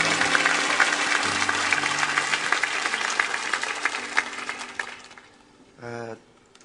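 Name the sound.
church congregation applause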